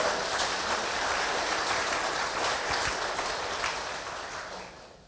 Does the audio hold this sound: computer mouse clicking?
no